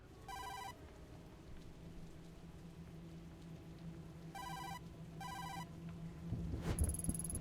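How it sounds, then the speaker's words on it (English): A phone rings from inside a dumpster in the video game Tokyo Dark: three short electronic ring bursts, muffled and fairly faint over steady rain, then a sudden closer noise and a high tone at the end. "No doubt about it, that's the phone"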